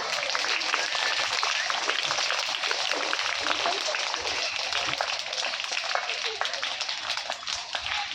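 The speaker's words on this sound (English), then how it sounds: "Claps, everyone." An audience claps steadily to welcome a guest to the dais at a children's nursery quiz competition, a dense, continuous round of applause filling the hall from start to finish.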